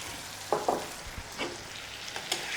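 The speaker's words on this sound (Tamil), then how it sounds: "ஆட் பண்ணிட்டு நல்லா அதை பிரட்டி விட்டுருவோம்" Madurai-style mutton chukka is stirred in a pan with curry leaves and coriander, giving a few soft scraping strokes over a faint, quiet sizzle, close by and without talk.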